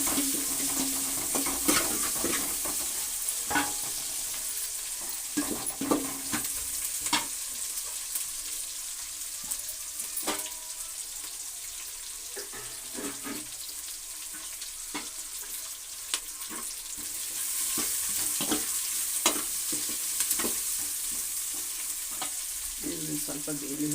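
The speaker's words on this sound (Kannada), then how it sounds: "ಒಂದು ಮೆಣಸಿನ್ಕಾಯಿ ಹಾಕಿದ್ದೀನಿ ಒಗ್ಗರಣೆಗೆ." A single green chili sizzles in hot oil for tempering a mosoppu saaru, with steady frying hiss and repeated stirring scrapes of a spoon in the pan, close and fairly loud throughout.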